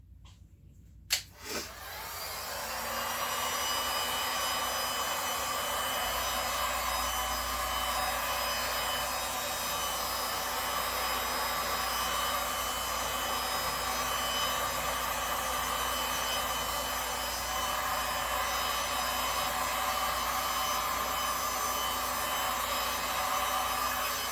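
A heat tool blows steadily on poured resin art over MDF boards, starting with a click and a brief spin-up, then holding one loud, continuous airy roar to the end.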